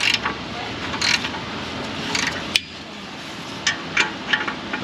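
Metal scraping, creaking and clunking sound out as an exhaust heat shield is pulled off a Ram 1500 5.7 pickup, with several sharp close knocks and rasps and one loud clank midway.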